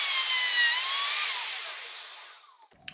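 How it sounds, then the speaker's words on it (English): A plunge router with its bit lowered 10 mm cuts into wood, a loud, high whining bite that holds steady, then fades as the motor spins down and stops, followed by a couple of faint knocks. "when I plunge the router down, the router bit will come out another 10 millimeters and hopefully give us a 10 mil cut"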